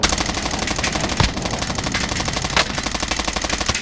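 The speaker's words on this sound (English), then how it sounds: "I was shooting here, I kept hitting them" Rapid automatic gunfire in a tactical shooter video game, loud continuous bursts of machine-gun fire with a couple of sharper heavy reports, no talking.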